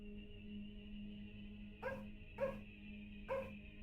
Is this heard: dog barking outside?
yes